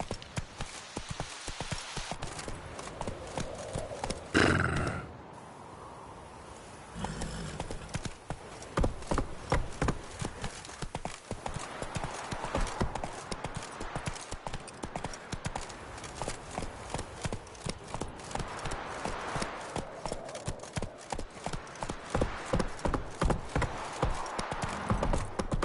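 Geralt's horse Roach galloping in The Witcher video game, a steady rapid clip-clop of hooves running throughout with a brief pause, mixed with game ambience and a faint voice near the start.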